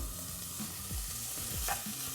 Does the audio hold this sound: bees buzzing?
no